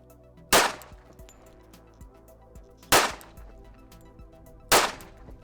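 Three sharp handgun shots ring out during a dot torture drill on a shooting range, spaced a couple of seconds apart, each a loud crack with a short decay over quiet background.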